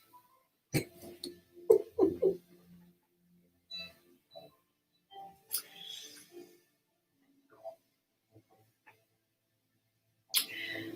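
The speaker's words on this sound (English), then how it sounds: "get over the friggin' hiccups" Someone making a free-form geode has hiccups, with a few abrupt throaty catches early on and scattered small gulps and breathy noises over long quiet stretches.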